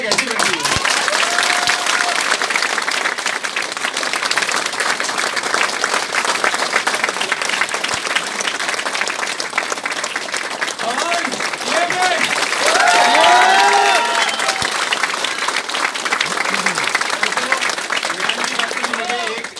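A large audience at a Vestige business event applauds in a sustained, dense wash of clapping and crowd noise that swells briefly near the end, with voices audible underneath.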